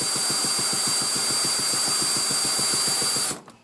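A drill-driven starter tool spins over a Stihl MS260 chainsaw engine, giving a loud, steady rapid chugging of compression pulses over the drill's whine for about three seconds, then cutting off abruptly.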